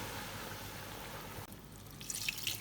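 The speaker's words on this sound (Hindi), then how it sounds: "अब इसके अंदर हम थोड़ा सा पानी ऐड करेंगे" Water poured into chicken browned with spices in a pot while making haleem, a steady liquid wash that briefly drops off and then returns with light splashy trickles, close by, with no talking.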